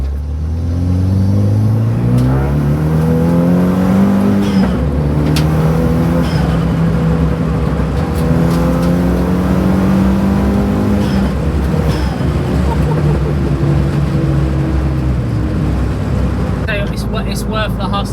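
Renault Megane RS track car accelerating hard around a circuit, engine note rising and falling through gear changes in a loud continuous roar heard from inside the cabin, with a driver talking over it.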